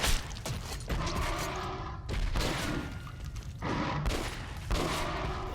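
Repeated bursts of gunfire from the video game Metro Last Light, shooting at a large enemy in three or four loud clusters that run almost the full length, with no talking.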